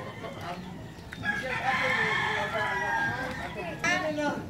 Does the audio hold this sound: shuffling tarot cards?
no